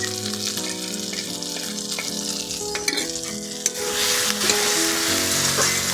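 Ground coriander, cumin and black pepper fry in hot oil for a hilsa fish dish, giving a steady close sizzle throughout that swells louder partway through, with a few scrapes of stirring.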